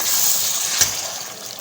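Water is poured into browned nihari meat in a pressure cooker, making a brief, close, hissing splash that stays fairly even throughout.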